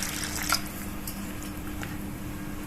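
Water poured into a simmering arbi (taro) curry masala to make gravy, heard as a soft wet squish and a few drips over a steady low kitchen hum, fairly faint with no talking.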